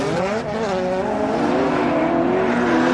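Kawabata's 1280 kg drift car screams through a qualifying run at RDS GP in Ryazan, engine note wailing and sliding in pitch with tire squeal mixed in, loud and continuous for the whole stretch.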